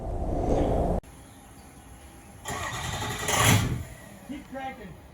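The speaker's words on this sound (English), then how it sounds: "It would crank, fire, and it would just keep cranking." A Ford Excursion with a 6.0L engine cranks with a rhythmic starter churn, briefly catches and then keeps cranking without running, while someone talks over it.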